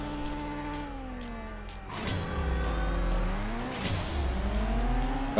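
A race car in the mobile game CSR Racing 2 accelerating hard, engine pitch climbing through several gear shifts with brief drops between them, loud and close with no talking.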